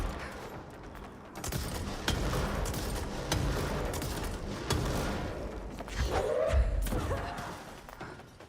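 A weapon in The Foundation DLC fires repeatedly, steady rapid thudding shots over several seconds, mixed with mechanical clunks and a brief whooshing sweep near the end, moderately loud.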